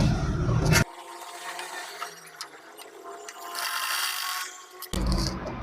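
A sewing machine runs steadily for several seconds, stitching down pleats on a blouse, with quieter handling noise before and after the run.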